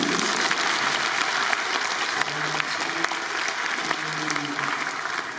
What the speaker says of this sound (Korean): 이렇게 박수 쳐야 됩니다